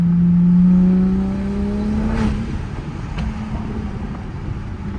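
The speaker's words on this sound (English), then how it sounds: "My Supra has a pure 800 built transmission, E85, and remark exhaust." A 700 whp Toyota Supra running E85 with a built transmission and aftermarket exhaust accelerates hard, a loud rising engine and turbo note that climbs in pitch, then eases into a steadier drone from inside the car.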